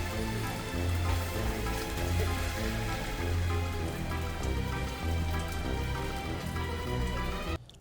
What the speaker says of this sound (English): heavy rain spoiled the rest of our quick visit to Salem